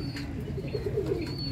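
Zeera sharmeela pigeons coo softly on a rooftop, a low, rolling murmur of a few birds close by, with no talk.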